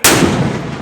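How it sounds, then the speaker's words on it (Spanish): Single loud cannon shot fired at noon in Zagreb's upper town near an old watchtower, a sharp boom followed by a long rolling echo decaying over the city, with no voices. "Todos los días a las 12 suena un cañonazo marcando las 12."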